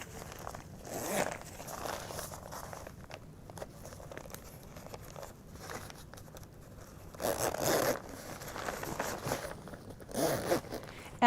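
Zippers on Lympha Press compression pants are pulled closed in a few separate quick rasping runs, close and clear against a quiet room.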